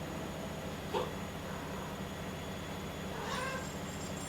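Cat meowing in a home setting, a couple of short calls standing out over a steady background hum, no talking.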